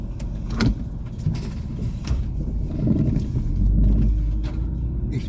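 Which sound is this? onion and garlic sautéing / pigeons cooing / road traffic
road traffic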